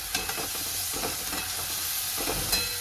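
Tomato and onion fry in hot oil, a constant close sizzle with soft scraping stirs recurring through the few seconds, no talking.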